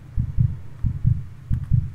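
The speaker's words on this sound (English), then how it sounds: "Why is there a heartbeat?" A heartbeat pounds in a Roblox horror game, three loud, low double thumps in an even slow rhythm, close and dominant against a quiet background.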